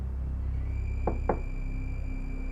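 Two quick knocks on a door, evenly spaced, sound over a steady low hum with faint muffled background.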